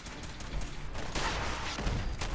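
Repeated heavy firing from a grenade launcher rifle in Fallout 4, a chaotic run of overlapping blasts and bangs at moderate loudness that lasts a couple of seconds, with no speech.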